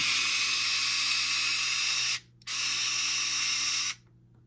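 Screw being driven out of an X-Maxx RC truck with a powered driver, giving two steady buzzing whirs, a longer one then a shorter one after a brief pause, close and fairly loud with no talk.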